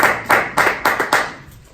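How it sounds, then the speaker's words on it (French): A congregation at a church service claps in a burst of about five loud, evenly spaced claps close together, fading out toward the end with no voices on top. "On peut acclamer pour ce verset."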